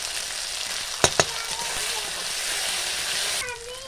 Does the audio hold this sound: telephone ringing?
no